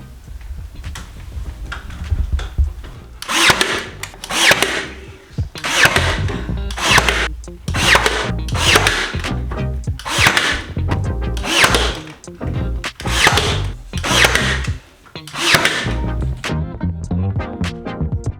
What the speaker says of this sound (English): I'm going in with my brad nailer, and I'm using 2-inch brad nails to secure everything.